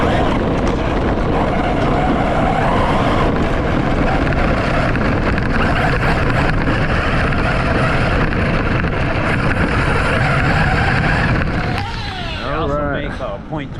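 A nitro RC car with a .24 Outlaw 9-port on-road engine runs with a loud, steady buzzing whine, then fades near the end under wind noise as people talk nearby.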